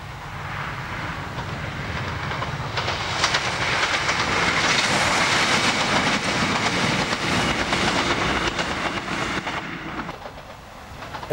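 Train on the old Pembroke and Tenby Railway in South Wales rumbles and rattles steadily for the whole stretch, close and fairly loud with a broad hiss, no voices.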